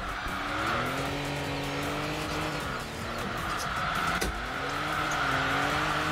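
A van, an Elgrand, drifting in a racing video game, with steady engine drone and wavering tire squeal sliding through a corner, moderately loud and continuous.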